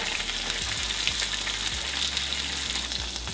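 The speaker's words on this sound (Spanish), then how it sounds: "Voy a calentar mi pan un poquito." A soft, continuous sizzle as bread warms on a hot griddle for a cheesy jalapeño burger, a faint even crackle with a few quiet low clicks underneath and no voices.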